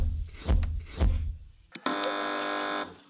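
A game show buzzer sounds on a British topical news panel quiz, a flat sustained electronic tone of about one second after two short knocks or taps.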